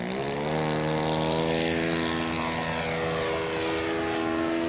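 Radio-controlled model airplane flying under power, its propeller motor giving a loud, steady whine with harmonics that shift slightly in pitch as it passes fairly close.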